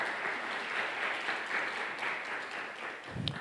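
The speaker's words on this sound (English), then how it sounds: "Let's give them another round of applause, please." Audience applause for a panel at a clinical research and engagement conference, steady and moderately distant clapping from a room full of attendees throughout, with a brief louder burst near the end.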